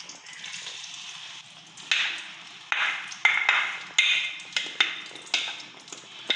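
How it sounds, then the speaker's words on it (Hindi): Onion masala tipped into a hot pan for a white-gravy chana curry, giving a run of scraping, clattering spoon-on-pan knocks with a steady hiss beneath, each knock sharp and close. "अब इसके अंदर ये प्याज वाला सारा मसाला डाल देंगे।"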